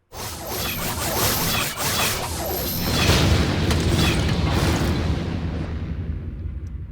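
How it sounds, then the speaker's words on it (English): A volley of arrows whooshes through the air in a Fate Stay Night visual novel and thuds into the ground, forming a dense, loud, continuous rush of swishes and heavy booming impacts that lasts several seconds and fades slightly toward the end. "I hear tens of sounds cutting through the air and numerous arrows pierce the ground in front of me."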